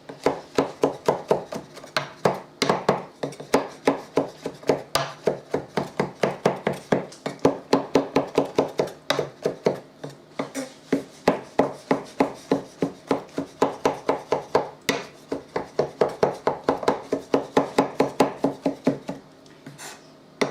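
A knife chops boiled citrus peels on a cutting board for mince pies, a steady, fast run of crisp, close taps that pauses briefly and then resumes.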